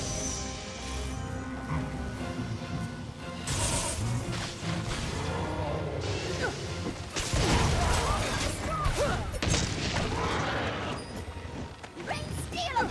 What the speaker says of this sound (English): I'm just going to kind of load this up with explosive bolts as much as I can